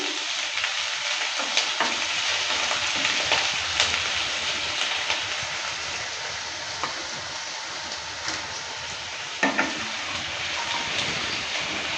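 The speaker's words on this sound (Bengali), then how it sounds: "পেঁয়াজটা দেওয়ার পর ভালো করে আবারও নেড়ে চেড়ে নিচ্ছে" Chopped onion frying with dheki greens and pointed gourd, stirred in a pan; a steady, close crackling sizzle with occasional scrapes and clinks of the spatula.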